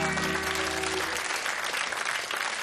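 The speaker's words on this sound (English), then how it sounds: "A round of applause." A television game show studio audience bursts into sustained applause, a dense wash of clapping from many hands that carries on evenly throughout.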